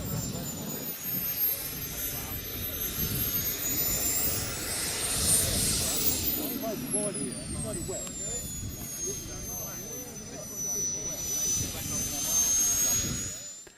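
A jet aircraft passes overhead at an air display, its engine roar swelling and fading with a rising and falling whine, heard beneath steady crowd chatter and nearby talking.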